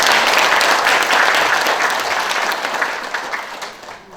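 Hearty audience applause welcoming a guest at a founding anniversary ceremony for a history and culture institute, loud and sustained, then thinning and tapering off toward the end.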